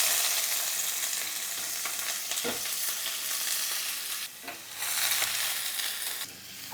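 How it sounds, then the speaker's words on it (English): Vegetables sizzling in about two teaspoons of oil in a hot skillet, a steady loud frying hiss with occasional stirring scrapes and shifts, close up and with no voices. "To a skillet, about 2 teaspoons of oil. We're going to let that get warm, and then we're going to add the vegetables."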